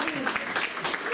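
Crowd applause at a comic con cosplay contest, steady broadband clapping filling a short burst with voices mixed in underneath.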